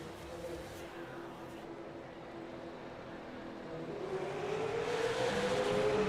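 Race cars at the green flag of an eight-lap heat race, engines rising from a distant rumble into a louder accelerating roar, with a rising engine tone toward the end.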